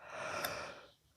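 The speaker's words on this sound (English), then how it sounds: "Human, stop yawning" A person yawns in one long drawn-out breathy exhale, close and alone, fading toward the end.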